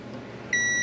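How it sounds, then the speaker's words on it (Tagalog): A multimeter's continuity buzzer sounds while probing a Daikin aircon board: a steady, piercing electronic tone switches on abruptly partway through and holds unbroken over a low background hum. "So, buzzer na lang to."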